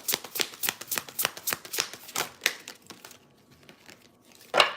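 A deck of tarot cards is shuffled in quick rhythmic riffles for about three seconds, close and crisp, then goes quiet before one final sharp shuffle.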